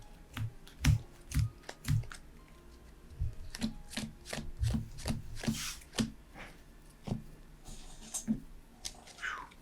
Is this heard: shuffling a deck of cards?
yes